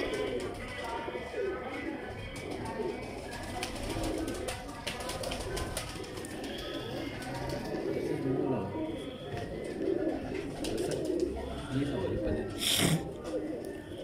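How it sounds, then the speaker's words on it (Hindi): A Lal Pari breed pigeon coos in soft, repeated low calls nearby, heard under someone speaking over it. "बड़ा शानदार जानवर है, लाल परी कबूतर हैं"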